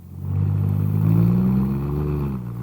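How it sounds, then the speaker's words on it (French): A car engine rumbles close by, swelling up and holding a steady revving drone before easing slightly, with no voices over it. "Une voiture."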